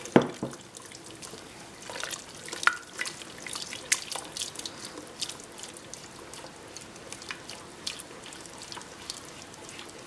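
Milk poured into a simmering white sauce on a stove makes soft, faint splashing and dripping liquid sounds, close and quiet, with irregular small splatters and no talk.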